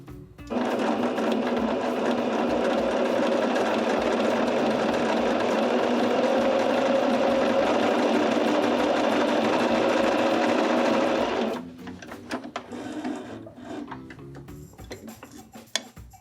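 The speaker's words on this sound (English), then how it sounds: "I'm going to go ahead and sew my hem" A sewing machine runs steadily for about eleven seconds, stitching a zig-zag hem on fabric, then stops, followed by quieter handling noises.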